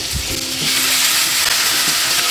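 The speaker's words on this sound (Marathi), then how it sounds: "आता हे चिकन ह्या अख्ख्या खड्या मसाल्याच्या फोडणीमध्ये घालायचं" Chicken pieces hit a hot whole-spice tempering and sizzle loudly and steadily, with a few soft stirring knocks at the start and no talking.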